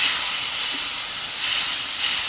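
Water poured into hot frying spice paste of chili powder for an egg and potato curry gives a loud, steady steam hiss and sizzle that keeps going without a break, with no voices.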